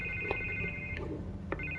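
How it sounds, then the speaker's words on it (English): Telephone ringing in the Telltale Batman game, a bright electronic ringtone pulsing in short repeated bursts over a low hum, with no talk. "I can't get the phone to stop ringing."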